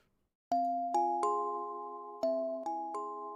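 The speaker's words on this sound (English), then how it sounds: "Ooh, starting off with some bells." Bright bell tones struck in a short sequence, each ringing out and decaying, forming a simple melodic pattern at the start of a song.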